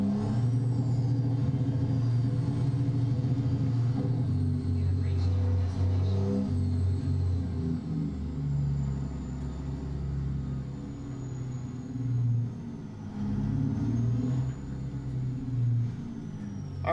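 A Kenworth W900 truck engine in American Truck Simulator rumbles low and steady while backing in, its idle swelling and easing in uneven surges, a faint hiss running above it.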